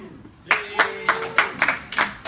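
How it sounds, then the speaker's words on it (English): A small comedy club audience in West Virginia gives brief applause in about six separate loud bursts of clapping, close and uneven, not a full sustained ovation. "Quick round of applause."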